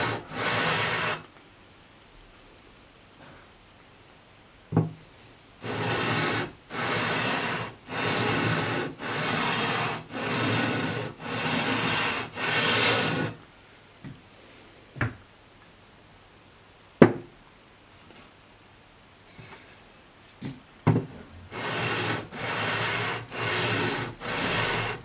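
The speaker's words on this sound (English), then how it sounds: "I'm going to switch to the 400 grit very gently" A vintage Sakai/Audition electric guitar fretboard is sanded by hand with 400 grit sandpaper in repeated back-and-forth strokes, two bursts of rhythmic rasping separated by quiet gaps with occasional light taps and clicks.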